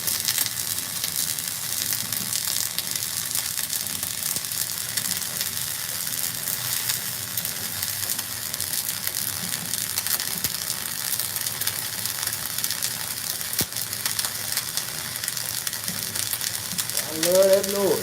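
Flux core welding on heavy steel plate, a steady dense crackling sizzle that runs loud and unbroken for the whole stretch, with a brief tonal squeal near the end.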